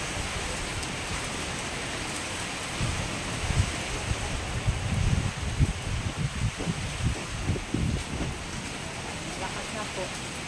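Typhoon rain and wind roar as a steady wash of hiss, with gusty rumbling surges through the middle and faint voices underneath.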